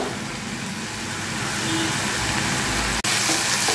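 Boiled greens in a pan over raised heat give off a loud, continuous sizzle as the water cooks off, with a brief dropout near the end.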